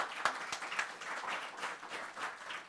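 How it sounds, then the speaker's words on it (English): Applause for a woman newly certified as a technical architect, at a tech conference session; a short, fairly quiet burst of scattered clapping with a few sharper hand claps early on, steady for under three seconds. "so round of applause for her."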